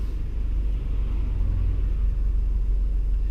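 A car rolls slowly in first gear during a driving lesson, giving a low, steady interior rumble of engine and road noise, soft and continuous with no voices.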